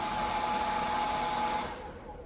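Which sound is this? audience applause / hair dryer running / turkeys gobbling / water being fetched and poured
hair dryer running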